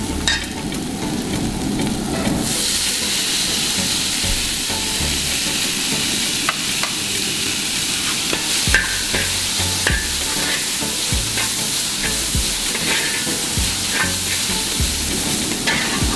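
Chopped tomato hits a pan of browned onions and fries with a steady loud sizzle, stirred throughout with scraping and clinking from the utensil, no voices over it.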